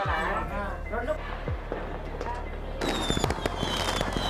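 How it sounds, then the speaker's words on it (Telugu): Firecrackers and fireworks going off on New Year's Eve night during a family celebration, a dense run of sharp crackling pops and bangs, some near and some distant, mixed with people talking over them. "బాంబులు టపాసులు పెట్టేస్తున్నారు గైస్"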